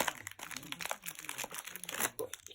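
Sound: opening a Beyblade package with scissors

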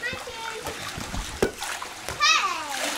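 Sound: children swimming and splashing in villa pool

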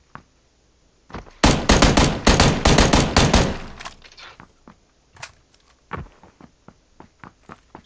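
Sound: gunfire from video game PUBG

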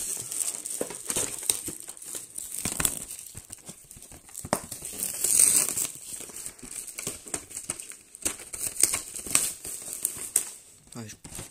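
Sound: opening a Pokémon card box, tearing and crinkling packaging

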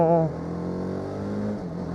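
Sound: TVS Apache RR310 motorcycle engine revving and choking

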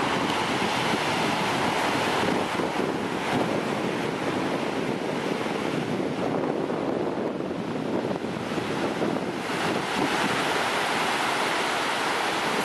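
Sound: Atlantic Ocean waves and surf at Lynn, Massachusetts

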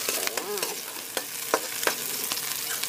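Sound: frying garlic for chicken curry

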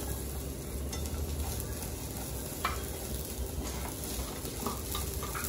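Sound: sautéing in a pan before adding sugar

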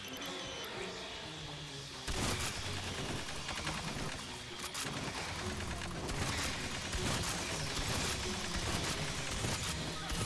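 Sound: shotgun fire in the video game Aliens: Fireteam Elite

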